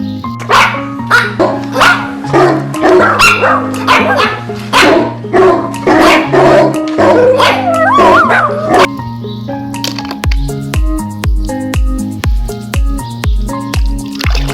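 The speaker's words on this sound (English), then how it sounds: "D for dog." A dog barks rapidly and repeatedly for several seconds over a bouncy, synthesized children's music backing, then stops while the music continues alone.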